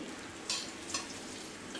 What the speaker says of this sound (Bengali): আর মাছগুলো একটু লালচে করেই ভেজে নেব।